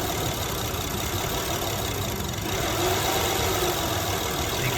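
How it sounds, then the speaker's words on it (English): A car engine running on propane drones steadily, low and rough, then deepens and strains briefly partway through, as if bogging down under load. "you can hear the engine lug down"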